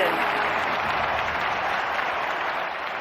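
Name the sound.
crowd applause in London 2012 video game triple jump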